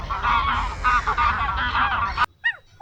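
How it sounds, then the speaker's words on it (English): A goose-like honking call repeats loudly over a steady bed of noise for about two seconds, then stops abruptly, leaving a few short, clear honks in near-silence. "duck,"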